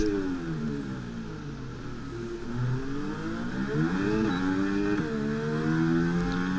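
A Formula 1 car pulls out of the pit lane in the F1 23 racing game during a race in Azerbaijan, its engine droning steadily and rising in pitch as it accelerates, loud and continuous with no talk over it.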